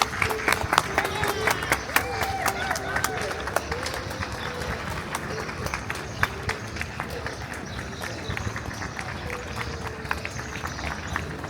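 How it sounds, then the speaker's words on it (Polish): Spectators lining a race route cheer and clap continuously, with scattered sharp claps and rising shouts over a busy crowd murmur, while people talk nearby. "Ludzie tutaj dopingują, biją brawa"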